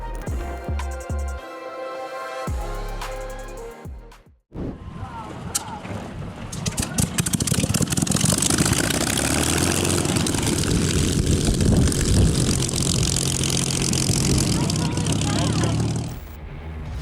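A Douglas DC-10 aircraft flying a firefighting demonstration roars loudly and continuously for most of the stretch, a dense engine rumble that swells in and then eases off, following a brief quieter tonal passage at the start.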